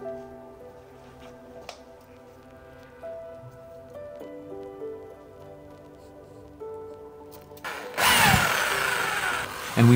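Quiet tonal background, then a loud power drill bursts in near the end, boring 10mm holes, whirring close and harsh for a couple of seconds.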